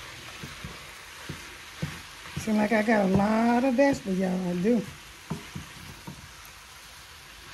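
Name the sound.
eggs and vegetables frying in a pan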